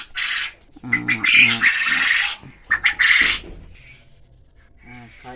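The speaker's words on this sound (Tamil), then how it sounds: "இதுதான் நான் பார்க்குற காடைக்கோழி." Quail call nearby in repeated harsh, squawking bursts with short pauses between them.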